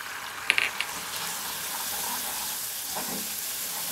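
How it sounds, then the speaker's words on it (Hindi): Powdered spices (coriander, cumin, red chili, Kashmiri chili powder and turmeric) frying in a pan for Memoni sweet-and-sour potatoes give a steady, close sizzling hiss, with a few light clinks near the start. "इसको भी हम हल्का सा भूनेंगे तकरीबन 30-40 सेकंड तक।"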